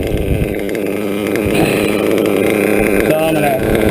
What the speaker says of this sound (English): These modded engines don't like to run too lean, that's for sure